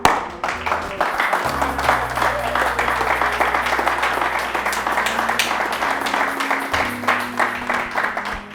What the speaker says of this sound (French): Acclame Jésus, acclame